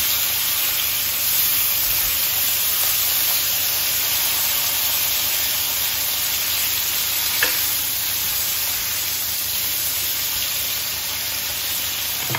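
Butter sizzles steadily in a hot pan of roasted potatoes cooked in duck fat, a continuous, close frying hiss with faint crackles throughout and no talking.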